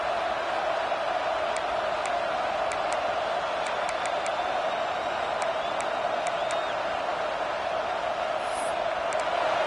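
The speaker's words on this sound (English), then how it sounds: "this home crowd is fired up and ready to make a difference today" A home crowd at a college football game in a video game, a steady wall of distant cheering and murmur with occasional whistles and whoops rising above it throughout.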